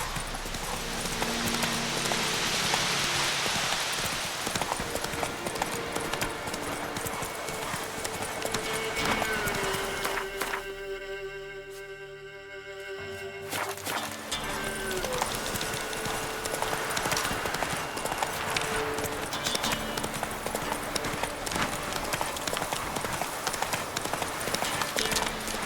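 A horse gallops in The Witcher 3 game, hooves pounding in a fast, steady clip-clop rhythm over ambient background sound, with a brief break in the middle before the galloping resumes.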